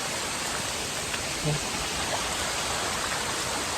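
Monsoon rain falls in a steady, even hiss in the hills near Thane, filling the whole stretch, with a faint low murmur briefly surfacing partway through.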